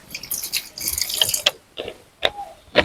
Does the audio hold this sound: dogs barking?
no